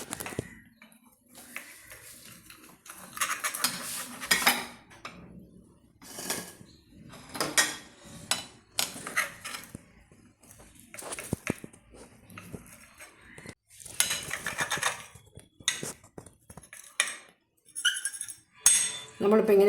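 Metal utensils clink and scrape against a pan or plate while a fried egg is cut into pieces for a bread and egg hash, in irregular bursts of sharp taps with quiet gaps between.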